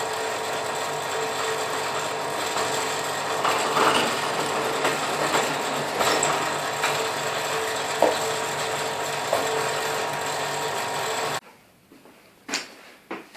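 A drill press bores centre holes through a pantograph arm for a router pantograph, running as a steady, fairly loud mechanical whir for about eleven seconds before cutting off into a few brief clicks and knocks.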